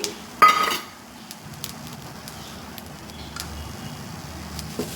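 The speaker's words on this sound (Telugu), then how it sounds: "కరివేపాకు చూసారా గలగల సౌండ్ వస్తుంది కదా ఈ రకంగా వేగిన తర్వాత" Curry leaves frying in hot oil give a loud crackling burst at first, then settle into faint scattered pops and sizzling.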